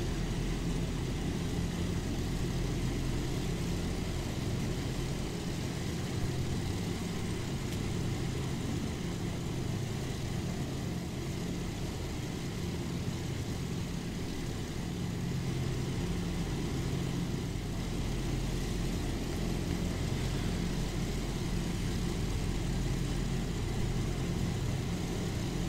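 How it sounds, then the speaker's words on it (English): PV-2 Harpoon piston engines warming up in the Prepar3D flight simulator, heard from the cockpit as a steady, continuous droning rumble with no change in level throughout. "Warming these engines up."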